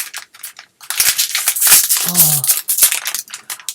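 Crisp snipping and crinkling as scissors cut open a plastic Oreo packet, with short cuts and rustles close up, irregular and quick.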